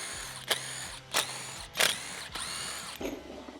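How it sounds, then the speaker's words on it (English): Bolts being removed with a T30 Torx driver from the lid of a Hellcat supercharger, giving a few short, close mechanical clicks and ratcheting bursts spaced about half a second apart. "With your T30 Torx, we're going to remove all of the lid bolts first."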